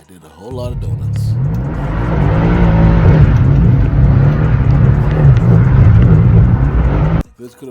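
A 600hp+ AMG car doing donuts on cheap tires, its engine roaring loud and close in a steady, sustained howl for several seconds with tire noise, then cutting off abruptly, with a voice heard over it.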